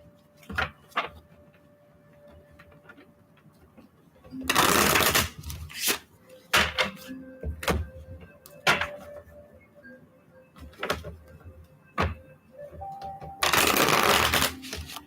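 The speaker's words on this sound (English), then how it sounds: "here's where it gets difficult to shuffle" A deck of tarot cards is riffled and shuffled in two loud, rapid bursts, separated by quieter taps and handling of the cards in a still room.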